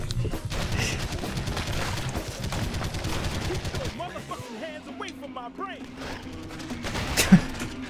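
Rapid gunfire rattles while zombies are shot in the arcade shooter House of the Dead Overkill, dense bursts dropping away midway, then scattered shots and game sounds beneath players' talk.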